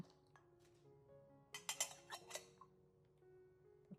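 Metal pots and kitchen utensils clink and clatter during unpacking of a relocation shipment from India to Germany, a short cluster of bright, close knocks and rings over a quiet room, with no talking.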